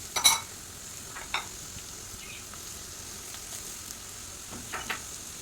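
Sliced onion and green chili drop into a hot pan for fried rice and sizzle quietly, with scattered scrape-and-tap stirring sounds, the loudest near the start.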